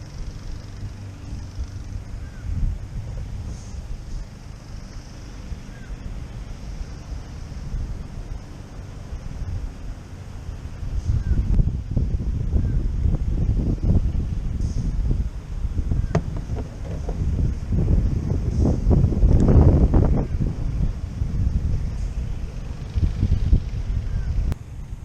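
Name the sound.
high wind on open water while fishing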